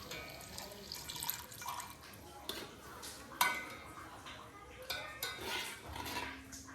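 Milk pours into cooked rice in a brass pot for kheer, with a continuous wet splashing and dribbling broken by metallic clinks of utensils, fairly quiet and steady throughout.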